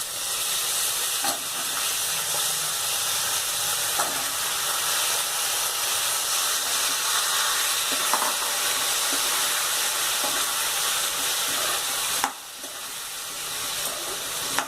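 Soaked brinjal pieces hit a hot pan for vangibath, setting off a loud, steady hiss and sizzle that runs without a break, with a brief dip near the end.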